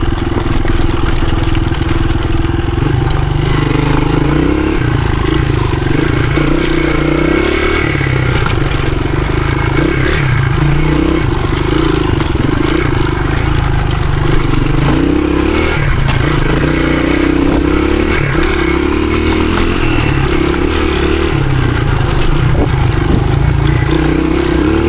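A 1983 Honda XR200R, a 15hp dirt bike, rides through the woods with its engine droning loudly and continuously, its pitch surging and falling as the throttle works. Chassis rattle clatters over the rough ground.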